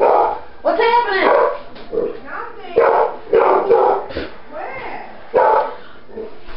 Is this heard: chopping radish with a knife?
no